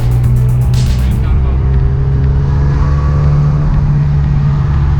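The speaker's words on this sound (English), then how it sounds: "Mazda RX7 です。 FD3S ツインターボ" Low, steady engine drone of a 300-horsepower twin-turbo Mazda RX7 FD3S, heard from close by with a strong hum throughout and a brief high whine early on; a voice speaks over it.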